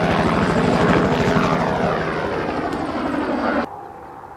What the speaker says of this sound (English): Project Heaviside is Kitty Hawk's latest electric VTOL vehicle.